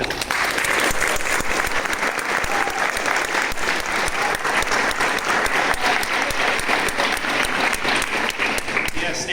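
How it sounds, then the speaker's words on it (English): Steady, sustained applause from an audience at a community musicians' event fills the whole stretch at an even, full level. "So can we give them a round of applause?"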